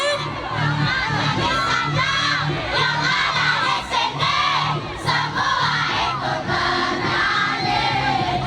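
Crowd of children and adults at a junior idol singing show in Tana Toraja shouting and cheering loudly and continuously, a dense roar of many voices with scattered shrill yells throughout.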